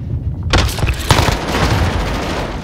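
Rapid gunfire in Shoothouse, a Call of Duty–style shooter map during a Search and Destroy match, loud dense bursts of shots and booms erupting after a brief lull and continuing without pause.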